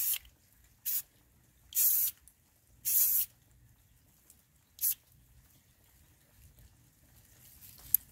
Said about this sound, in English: I spray again.